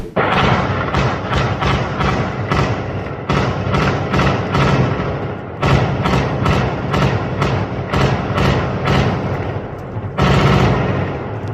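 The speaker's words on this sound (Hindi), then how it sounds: "इजरायली रेड कर रहे हैं और सीधा फायर कर रहे हैं" Close, loud bursts of rapid gunfire during an Israeli raid on Palestinian houses near Jerusalem, volleys of sharp shots broken by short pauses over about eleven seconds, with no talk.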